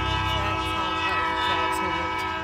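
A Kiamichi Railroad locomotive horn sounds in Idabel, Oklahoma, a loud sustained chord heard close, with a faint rumble of the train underneath.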